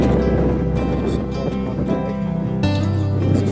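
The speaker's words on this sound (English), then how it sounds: "It's quite breezy up here." Strong wind rushes across an exposed mountain summit in the Glyderau, Snowdonia, buffeting the microphone with a loud, continuous roar that swells and dips, with no talking.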